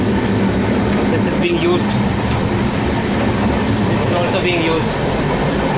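An Indian sleeper class train rolls along the rails, its steady low rumble and rattling continuous throughout, with people talking over it close by.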